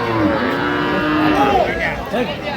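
A cow moos several times at a busy rural cattle market selling cows with calves, drawn-out bellowing calls close by over a murmur of background noise.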